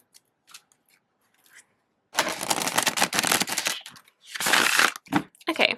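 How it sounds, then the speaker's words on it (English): A tarot card deck with a semi-gloss matte finish is riffle shuffled by hand, giving two dense bursts of rapid flicking card sounds after a few faint taps. "it's a little bit of a struggle to riffle shuffle"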